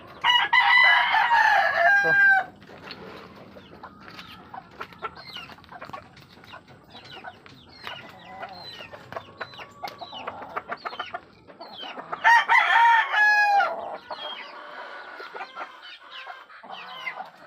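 A rooster crows loudly twice, once at the start and again later, with hens clucking steadily in between; close by, outdoors at a backyard chicken feeding, no voices.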